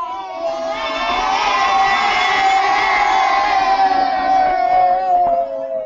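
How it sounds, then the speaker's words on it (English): Many children cheering together in classrooms, a loud sustained chorus of high shouts and whoops that swells and holds for several seconds before tapering off. "Give me a wave and a cheer in your classrooms"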